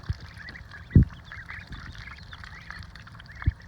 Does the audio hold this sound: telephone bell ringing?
no